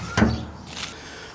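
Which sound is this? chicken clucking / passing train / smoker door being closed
smoker door being closed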